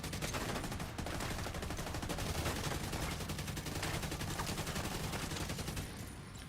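Rapid continuous automatic gunfire from an inaccurate gun in the shooter video game The Division 2, a dense steady barrage of shots throughout, loud and close, tapering slightly at the end.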